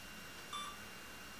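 A DJI Osmo camera gimbal gives a single short, faint electronic beep that rises briefly above a quiet background hiss.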